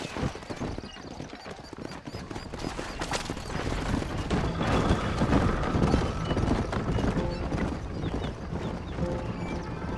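Horse hooves thud in a fast clip-clop as a rider gallops in Red Dead Redemption, a dense rhythmic drumming mixed with game noise and occasional sharp bangs, continuous and fairly loud throughout.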